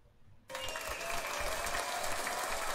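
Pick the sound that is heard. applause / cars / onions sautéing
applause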